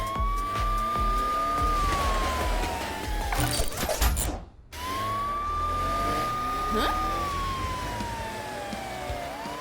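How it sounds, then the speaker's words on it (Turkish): A cartoon fire truck's wailing siren rises and falls in long sweeps over engine noise, cutting out briefly midway before starting up again, with a voice talking underneath. "Matilda, sanırım o sireni kullanmanın tam zamanı."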